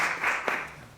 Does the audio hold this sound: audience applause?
yes